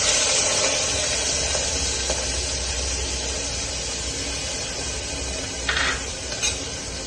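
Chopped shallots hit hot oil with popping mustard seeds in a pan for an uppumavu, giving a loud, steady sizzle and hiss with a few stirring scrapes near the end, with no talk.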